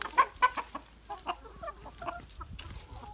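Domestic chickens cluck in short, scattered bursts, fairly faint and close, with uneven pauses between the soft calls.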